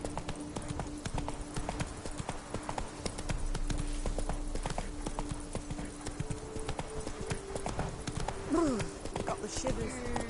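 Roach, a horse in The Witcher 3, clip-clops along in a steady rhythmic gait with hoofbeats close and clear, a short whinny near the end and a game soundtrack faintly underneath.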